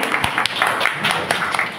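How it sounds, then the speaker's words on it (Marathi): An audience claps after a song at a music program in Sahawas Hall, Badlapur East. The applause is dense and steady and sounds close, with scattered sharper claps standing out. "गाणं आवडलं असेल तर वाजवा किंवा जोरदार टाळी"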